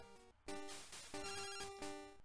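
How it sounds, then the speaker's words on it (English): A phone-call ringtone from the Game Boy game Pokémon Crystal plays as bright, chiptune-style electronic beeping: a brief trill, then three repeated buzzy ringing bursts in a steady rhythm, clear and alone. "as soon as we step out, we already get a phone call from Elm"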